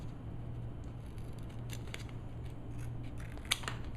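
Scissors snip through strips of faux tin ceiling tile for a photography backdrop, giving a few sharp, close cuts over a steady low room hum.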